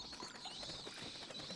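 Birds coo softly in the video game Resident Evil 4, a faint, repeated low call against quiet background ambience, with no talk.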